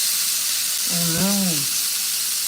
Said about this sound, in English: I'm burning this butter.